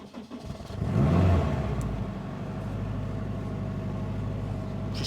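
An all-wheel-drive Honda Civic Type R with a nearly flat battery cranks briefly, then catches and settles into a steady, close idle hum.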